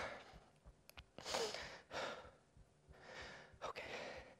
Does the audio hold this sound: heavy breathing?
yes